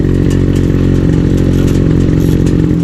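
Small engine driving an irrigation water pump in a farm field, running steadily and loudly with a continuous low rumbling throb and rattling mechanical clatter throughout.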